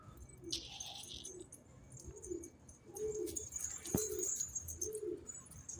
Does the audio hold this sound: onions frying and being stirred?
no